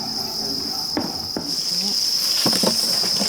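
Many crickets in egg crates are shaken during a harvest on a Thai cricket farm, giving a constant high chirping drone with a few soft rustling and knocking bursts of the crates.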